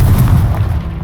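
A Confringo blasting curse explodes in Hogwarts Legacy, a deep booming blast with a low rumbling body that fills the short moment and fades slightly at the end.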